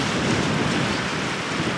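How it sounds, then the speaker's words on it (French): Rain and wind sweep across a lake campsite in the Yukon, a steady dense wash of broadband noise with low gusty rumble, continuous and close, with no voices. "Regardez la pluie qui s'en vient."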